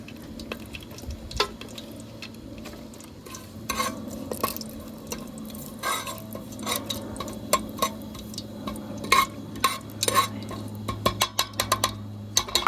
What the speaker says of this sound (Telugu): లైట్గా కలుపాలి.